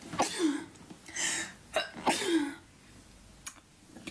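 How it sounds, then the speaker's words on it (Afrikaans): Two loud, close sneezes about a second and a half apart, each a sharp burst with a breathy tail, followed by a fainter third snort near the end; no talk over them. "Ek moet nies."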